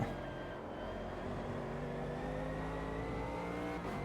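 Race car engine in the sim racing game Automobilista 2, a steady droning high-revving tone that holds its pitch while the car slides through a drift, faint and without talk.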